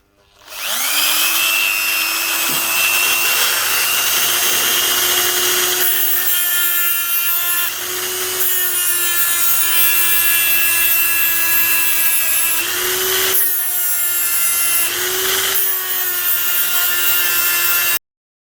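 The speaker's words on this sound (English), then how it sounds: "I suppose the Dremel could do that." A Dremel rotary tool cuts into the primary drive of a Triumph Bonneville T140, a loud, sustained high-pitched whine that dips briefly in pitch several times as the cutting wheel bites and then steadies.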